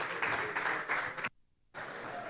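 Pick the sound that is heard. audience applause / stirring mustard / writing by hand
audience applause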